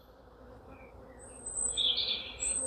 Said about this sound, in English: So if we're looking at the bees, they are sticking their tongues through, and they're trying to feed the queen and the bees underneath.